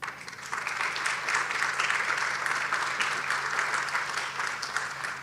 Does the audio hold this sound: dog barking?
no